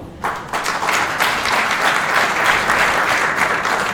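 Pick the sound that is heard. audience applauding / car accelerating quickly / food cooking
audience applauding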